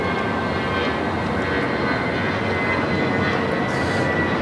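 A Boeing 747 cargo jet taxis for takeoff at Los Angeles International Airport, a steady, loud, broadband engine roar that holds evenly with no talking.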